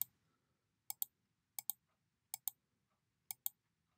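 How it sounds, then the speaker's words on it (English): Crisp mouse clicks from working with the polygonal lasso tool in Photoshop, mostly in quick pairs spaced under a second apart, close and clear against near silence. "So if you hit a curve or a corner, then you need to click."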